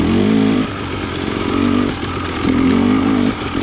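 A KTM 300 XC TPI two-stroke dirt bike with a low-compression head insert revs in third gear while its rider works the clutch. The engine gives a loud, buzzy snarl that rises and falls in bursts, close throughout.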